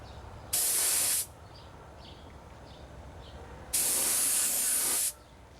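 Two bursts of an aerosol can spraying a coat of silver paint onto a model plane outdoors, each a steady close hiss of about a second, separated by a quiet pause; no speech.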